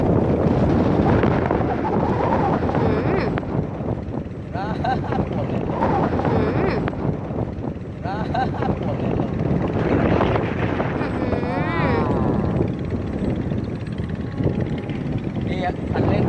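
A Dragonfly RC model plane's motor drones steadily at half throttle while strong wind roars and buffets across the microphone throughout, with someone talking over the noise outdoors.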